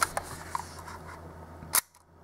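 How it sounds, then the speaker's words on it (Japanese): A 1953 Leica IIIf red-dial rangefinder camera fires its shutter at 1/250 second, making one crisp mechanical click near the end, then quiet. "きっちりと、シャッター切れているのがお分かりいただけると思います"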